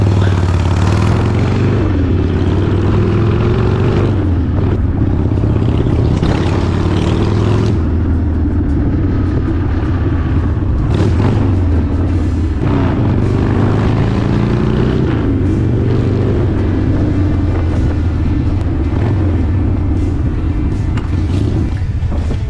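Harley Sportster motorcycle engine out on a shakeout ride, a loud, close, throbbing low rumble with repeated rises and falls as the throttle opens and gears change, heard without talk.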